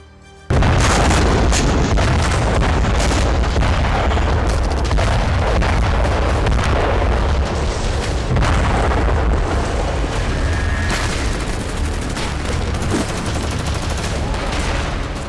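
Explosions and gunfire from the Israel-Gaza war form a loud, dense, continuous barrage of deep booms and cracking shots that starts abruptly and runs without a break, with no talk.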